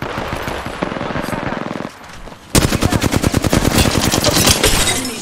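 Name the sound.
gunfire in the video game Apex Legends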